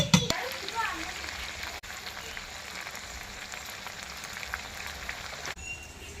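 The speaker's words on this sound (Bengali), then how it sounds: "এই কষানো মাংসের মধ্যে এবার ভেজে রাখা আলু দিয়ে দেব।" Meat and previously fried potatoes sizzle steadily in a pan while a village-style chicken curry cooks, a soft continuous crackle and hiss that stays fairly even throughout.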